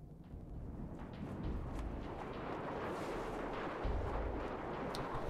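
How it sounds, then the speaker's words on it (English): In the video game Dust 514, a null cannon fires in a heavy, rolling boom. Low rumbling blasts and crackle persist at moderate volume without pause across the whole stretch. "Null cannon targeting MCC"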